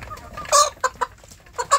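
Kampung chickens and chicks in a rearing pen cluck in short, close bursts, several sharp calls spaced unevenly across a brief moment with no talking.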